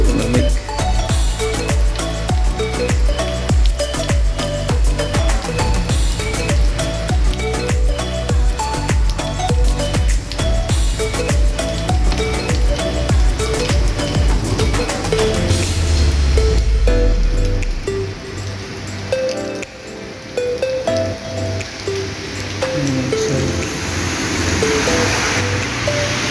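Heavy winter rain falls at night in Saudi Arabia, a loud dense hiss with rapid clinking drips and splashes, then a broader rushing wash of water later on.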